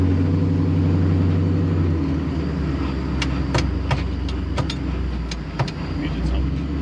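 A 1957 Chevy NASCAR car idling and rumbling while doing donuts, a loud steady low engine drone with sharp clicks and squeaks on top and talk partly underneath.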